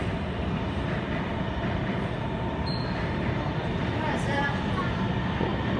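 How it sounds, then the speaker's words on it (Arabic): A metro train arrives at a Guangzhou airport station behind glass platform doors, making a steady rumbling roar of wheels and motors throughout, with faint voices in the station. "وخلاص المترو جاي اهوت هنشوف"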